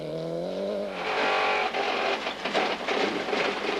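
A Hyundai rally car with a broken rear differential revs hard and passes nearby, with rough grinding and rattling mechanical noise under the roar.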